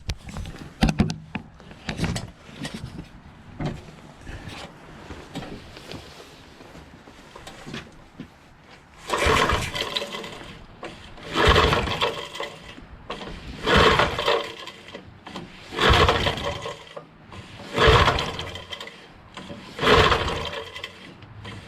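A small engine on choke is pull-started: about six rough, scraping rope pulls in a steady rhythm, each a loud burst separated by short pauses, with softer handling clatter before them and no catch.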